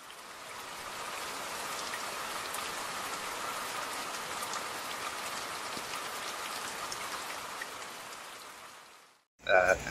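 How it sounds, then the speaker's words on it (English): Heavy rain pours steadily outdoors, a dense, even hiss of drops on surfaces lasting several seconds before cutting off abruptly into a brief louder sound. "Otherwise, it's raining as fuck."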